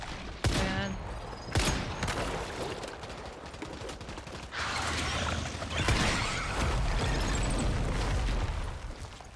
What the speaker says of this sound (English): Let's just keep shooting it.